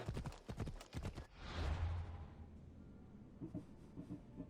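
Horse hooves clip-clop in a steady, close rhythm in the video game Assassin's Creed Odyssey, the sharp repeated strikes giving way to a longer rumbling stretch with a low hum and fainter scattered steps afterward.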